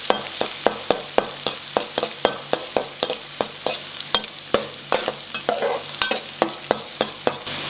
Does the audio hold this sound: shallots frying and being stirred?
yes